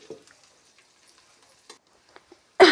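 Browned onions for a wedding-style tempering sizzle briefly and loudly in a pan as they are stirred, after a quiet stretch of faint, scattered clinks.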